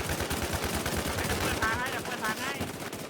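Rapid automatic gunfire from a shooting video game, a dense continuous burst of shots running loud throughout with no gaps.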